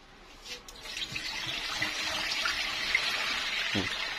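Water pours off settled starch in a basin, a steady broadband rush of liquid running continuously at moderate level, with a brief gurgle near the end.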